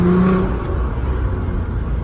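A 3.2-litre V6 engine in an R32 accelerates with a steady, rumbling drone heard from inside the car, continuous and moderately loud for about two seconds.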